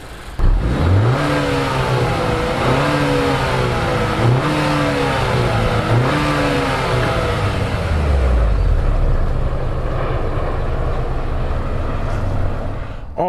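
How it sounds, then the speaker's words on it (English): Exhaust note of a 2020 Acura RDX A-Spec SH-AWD through a run of rhythmic revs, then settling to a steady drone and low idle, loud and near. "I'm gonna go ahead and give you some exhaust clips."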